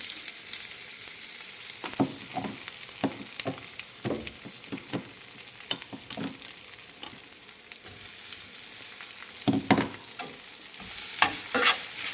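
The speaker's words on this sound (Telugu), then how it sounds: "కొబ్బరి కూర దోరగా వేగాలి" Grated coconut frying with a tempering of chana dal, urad dal, cumin and curry leaves in a pan, a soft background sizzle broken by repeated scraping stir strokes, with no voices.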